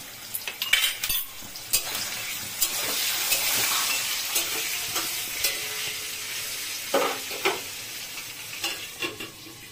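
Potatoes with salt and turmeric fry in a pan under a moderate sizzle, punctuated by frequent sharp clinks and scrapes of a utensil stirring against the metal.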